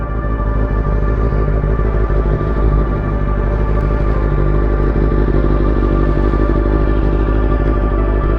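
A restored Kawasaki ZX6R sport motorcycle is ridden with its engine droning loud and close, a steady, even roar that holds throughout without pause.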